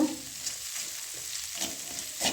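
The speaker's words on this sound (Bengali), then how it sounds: "এখন মশলাটা একটু কষিয়ে নেব" Spice paste with cumin powder being fried and stirred in a pan, a soft continuous sizzle with light scraping strokes from the spoon, close and fairly quiet.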